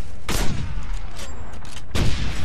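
Two sharp, loud explosive blasts from the Wolfenstein video game, a grenade going off, each a broadband burst about a second and a half apart over a noisy battle background.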